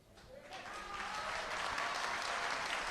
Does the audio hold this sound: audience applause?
yes